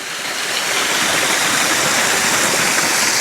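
Waterfall stream at Silver Sands Beach in Aberdour, Scotland, with clear water running beneath a railway line to the sea: a close, loud, steady rush of falling and flowing water with no voices.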